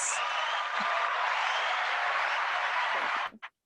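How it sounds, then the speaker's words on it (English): A round of applause from a small audience for two podcast guests, a steady wash of clapping lasting about three seconds before cutting off abruptly, followed by a brief faint sound. "We're gonna give them a round of applause"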